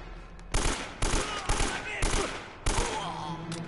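Repeated gunfire from Uncharted: The Nathan Drake Collection, a string of five sharp shots spaced roughly half a second apart, each with a bright crack and short tail, loud and close over a steady game backdrop with faint voice in the background.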